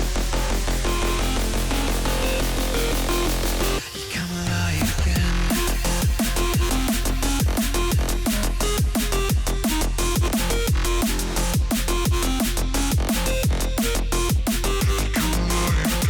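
Aggressive FM synthesizer lead melody over a dense electronic track: buzzy, bright staccato notes in a fast driving rhythm, loud and continuous, with a brief dip and pitch sweep early on before the full beat resumes.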